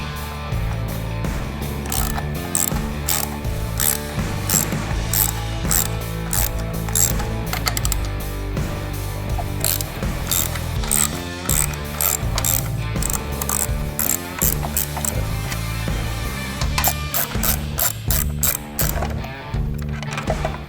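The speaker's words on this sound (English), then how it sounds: "take a 5/8 socket and pull these two vent bolts out right here" A ratchet fitted with a 5/8 socket removes vent bolts from a Harley-Davidson Sportster Iron 1200 during an S&S intake install, giving steady close-up ratcheting clicks over a continuous tonal background.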